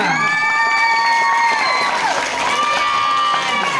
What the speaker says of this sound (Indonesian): Tepuk tangan dulu untuk tim kontra